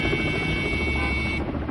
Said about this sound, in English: It's a firefighting Ka-35 from the Department of Emergencies